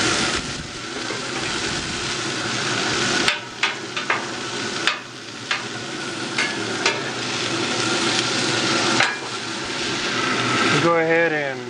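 Food frying in oil on a griddle insert set on a BBQ gives a steady close sizzle throughout, broken by several sharp utensil knocks and scrapes, with people talking over it.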